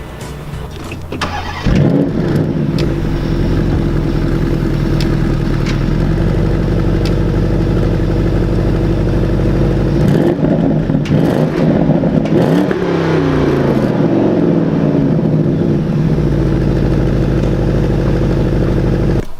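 A 2017 Porsche Panamera engine fires up and settles into a deep, loud idle, then revs and pulls away with rising and shifting engine tones, heard close from inside the car.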